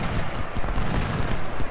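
Cannon and artillery fire in the Ultimate General: Civil War game, Battle of Chickamauga, a continuous dense rumble of booming shots and battle noise at steady loudness with no talk.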